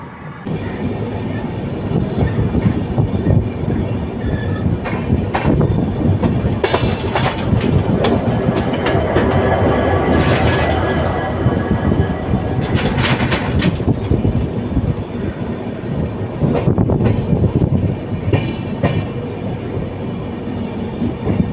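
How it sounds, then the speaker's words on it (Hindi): An Indian passenger train rolls along with the Gyaneshwari Express passing alongside, a loud continuous rumble with rhythmic clickety-clack of wheels on rail joints and occasional sharper clattering bursts, heard from inside the moving train. "और हमारी ट्रेन को क्रॉस कर रही है ट्रेन नंबर 12102 ज्ञानेश्वरी एक्सप्रेस"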